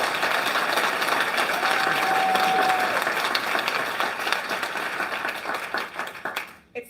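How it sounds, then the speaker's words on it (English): Dense, steady audience applause at a political campaign launch for New Blue Ontario, a loud continuous wash of clapping that thins and tapers off toward the end. "Round of applause"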